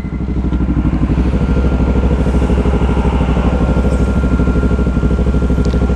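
Several motorcycles from a group breakfast ride idle and run close by, a loud, steady, throbbing engine rumble with a fast rhythmic pulse that holds for several seconds.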